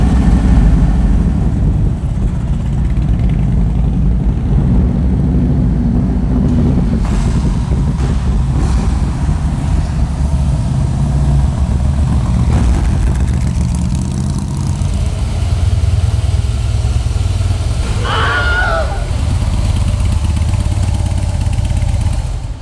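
A motorcycle engine runs steadily at idle, a loud continuous low rumble with wind buffeting, rising briefly near the end.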